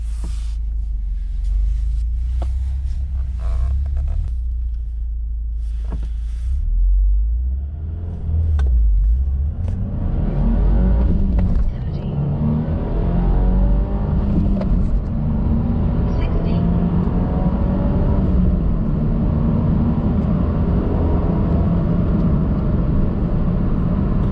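A 2022 Subaru WRX with a K&N filter accelerates through a test pull, its engine note climbing steadily from a low rumble to a rising roar, with talk heard over the first part.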